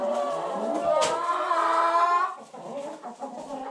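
A small flock of older hens clucks close by, with a dense cluster of overlapping calls followed by softer, scattered clucks.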